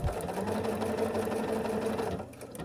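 A sewing machine runs steadily while stitching a quilt block, its fast rhythmic motor whir and needle clatter continuous and close, then it stops abruptly near the end.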